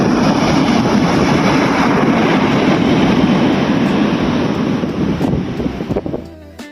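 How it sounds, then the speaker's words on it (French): Small ocean waves rolling in at Nazaré beach in Portugal with wind, a loud continuous roar of surf and gusty wind noise that thins out near the end. "J'admire les vagues s'enrouler. Aujourd'hui, les vagues sont petites, mais on sent quand même la puissance de l'océan."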